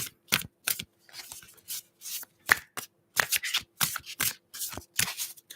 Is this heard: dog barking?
no